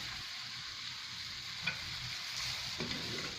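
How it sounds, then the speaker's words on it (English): Ginger garlic paste and chopped green chilli frying in a pan make a steady, close sizzle throughout, with a couple of faint stirring clicks. "Fry in 1 minute."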